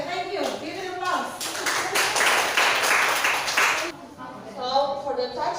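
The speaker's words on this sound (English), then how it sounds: "Give an applause." A classroom of students claps in a brief burst of scattered applause lasting a few seconds, with a voice speaking just before and after.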